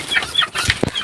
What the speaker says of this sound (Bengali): যে চীনা হাঁস, মারামারি করিস না।